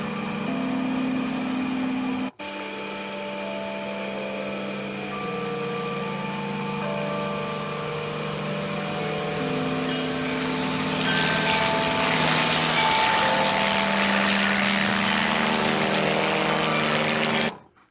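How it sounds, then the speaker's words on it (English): A steady, loud rotor and engine drone of a military helicopter fills the whole stretch, layered over sustained ambient chime tones, then cuts off abruptly at the end. "And mix that with a military helicopter, and you get this."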